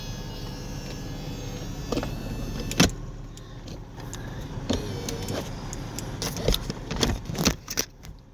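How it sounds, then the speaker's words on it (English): Power windows on a convertible car whir upward after the top latches, with a motor hum, clicks and mechanical clunks near the end, no talking. "The latch goes on, and the windows go up."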